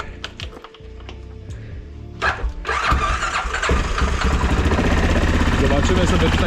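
Kymco MXU 550 quad being started: a few clicks and short cranking bursts, then the engine catches and settles into a loud, steady near idle, with someone speaking early on.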